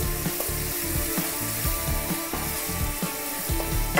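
Sliced onion frying with garlic and ginger for baby corn Manchurian, a steady close sizzle broken by rhythmic scraping and stirring knocks against the pan.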